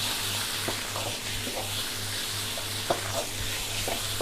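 Liver stir-fried in a hot pan with garlic and chili for a spicy kaphrao dish, a steady bright sizzle with repeated spatula scrapes and clicks over a low hum, close up.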